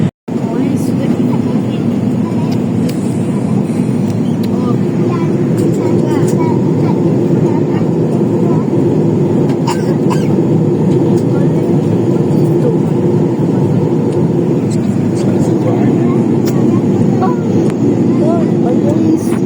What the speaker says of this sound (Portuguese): A decolagem foi essa.